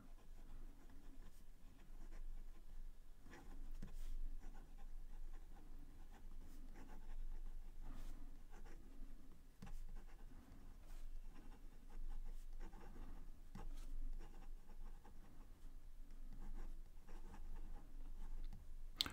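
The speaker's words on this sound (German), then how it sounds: "wie die Feder hier übers Papier gleitet" Fountain pen nib gliding and scratching across paper up close, quiet soft strokes with small ticks as letters form, continuing in an uneven rhythm with brief pauses between words.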